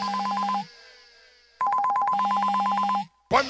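A mobile phone ringtone plays a loud, close electronic melody with rapid repeating tones. It rings in two bursts separated by a quieter gap and ends with a short, sharp sound.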